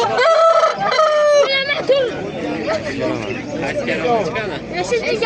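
Roosters crow loudly and repeatedly at a busy poultry bazaar in Qo'rg'ontepa, Andijon, with hens clucking and people chattering close by.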